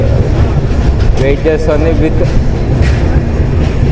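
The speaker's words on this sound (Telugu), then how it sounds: "ఇంకొక ట్రైన్ వెళ్తుంది, కోనార్క్ ఎక్స్ప్రెస్." The Konark Express passes through a station with a loud, continuous rumble of rolling wheels and rail noise, and people talk over it.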